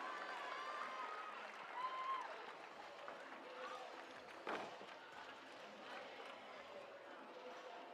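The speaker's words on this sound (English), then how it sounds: "Huge round of applause for Alexandra Inglaterra." A crowd at a youth national lead climbing final in Salt Lake City applauds a climber, a steady wash of distant clapping and cheering that stays fairly faint throughout, with a brief sharper burst near the middle.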